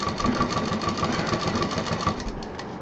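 Sewing machine stitching round piping onto a large shopping bag, a steady, continuous mechanical whir with a fast repetitive needle rhythm, close and fairly loud, running throughout with no talking.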